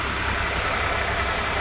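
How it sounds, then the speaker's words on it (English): A 2010 Buick LaCrosse engine runs at idle just after starting, a close, loud, steady hum with no other sounds. "Okay, so the car has started."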